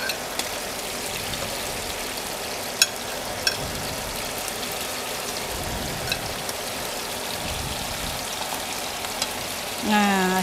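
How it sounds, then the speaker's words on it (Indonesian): Food sizzling and frying in a pan while cooking at home, a steady crackling hiss throughout with a few sharp pops, and a brief rise in noise at the very end. "Nah, kita goreng"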